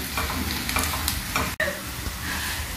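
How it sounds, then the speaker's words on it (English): Onions fry in a pan with a steady, moderately quiet sizzle and crackle, broken once by a brief dropout, with no talking over it. "let's allow it to allow the onions to cook a little bit"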